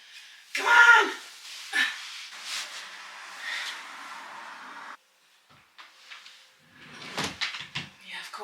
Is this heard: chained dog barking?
no